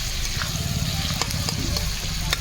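Carrots and slit green chillies frying in a pan, a steady close sizzle with faint stirring clicks and scrapes throughout.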